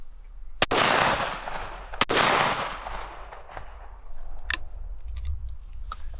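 A side-by-side shotgun loaded with steel shot fires two loud, sharp blasts about a second and a half apart, each followed by a long rolling echo outdoors, then fainter distant clicks and knocks.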